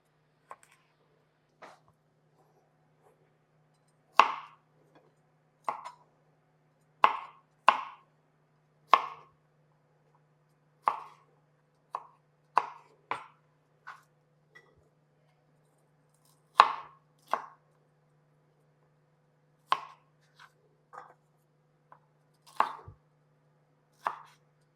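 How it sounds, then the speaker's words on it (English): Broccoli being halved with a knife on a cutting board, a long series of sharp, crisp chops spaced irregularly, close and clear with no talk. "We're gonna go ahead and start chopping them. Yeah, I like to cut them in half"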